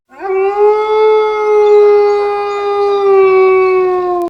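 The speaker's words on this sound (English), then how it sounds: "Is exactly the sound a dingo makes." Dingo howling in the video game Blinky Bill's Ghost Cave, a single loud, sustained tonal howl that starts with a quick upward slide, holds steady for about four seconds and sags slightly in pitch before stopping abruptly.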